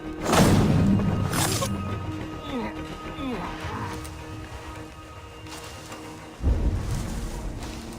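Storm rolling in within Assassin's Creed Valhalla, with loud booming thunder cracks near the start and again late, a rumbling rain-like wash between them, and some game voices briefly mixed in.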